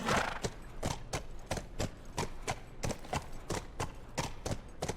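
Horse hooves clip-clopping in a steady walking rhythm in The Last of Us video game, crisp evenly spaced hoofbeats, close and continuous.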